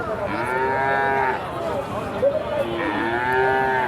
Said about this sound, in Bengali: ষাঁড় বাছুর